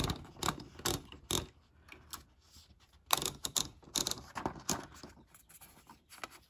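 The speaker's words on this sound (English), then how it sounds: "So let's do a test typing here." A 1981 Brother Charger 11 typewriter typing a test line with a backing sheet, a close series of sharp key strikes in uneven clusters with short pauses and mechanical clatter, no talk.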